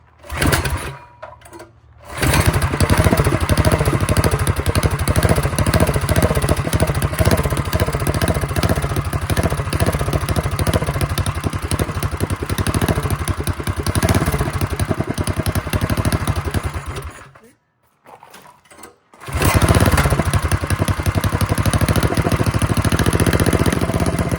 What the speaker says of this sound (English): little bit of gas. Just a hair. It's gonna have a lumpy idle.